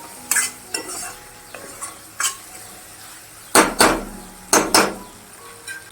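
Masala for broad bean (vaal) gravy sizzles softly in a pan after water is added, while a spoon scrapes and clanks against the metal in several sharp, irregular strokes.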